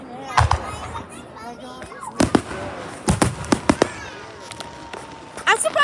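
Fireworks bursting at a firework show, a series of sharp booms and crackles at irregular intervals, some in quick clusters, moderately near, with people and children talking in between.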